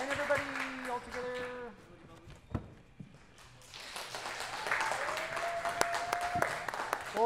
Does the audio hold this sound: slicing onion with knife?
no